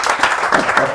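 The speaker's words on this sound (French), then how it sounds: "applaudissez pour vous-même" Comedy club audience clapping in a French stand-up show, a dense, loud burst of applause filling the room for about a second, with no clear speech over it.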